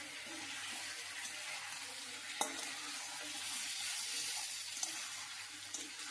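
Food being sautéed and stirred in a pan makes a faint, continuous sizzle, with occasional soft scrapes and one sharper clink, heard alone without any talk.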